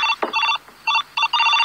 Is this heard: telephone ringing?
yes